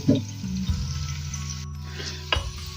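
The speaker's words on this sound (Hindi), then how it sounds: "तो इन प्याज को हम कर लेते हैं अच्छे से फ्राई" Sliced onions fry in ghee in a karahi for beef karahi, a steady close sizzle with a few stirring scrapes and a sharp clink near the end, no voices.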